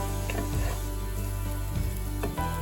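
Filipino spaghetti sauce stirred and mixed in a pan, with a continuous loud sizzle of frying and a few scraping strokes of a utensil against the pan, and no talking.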